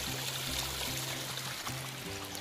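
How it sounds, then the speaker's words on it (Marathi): Water flowing through a channel cut along the edge of a rice paddy during very heavy Konkan rain in Kankavli, Sindhudurg: a steady, close, continuous rushing wash with no break. "बघा एका बाजून पाट काढून पाणी सोडलेला"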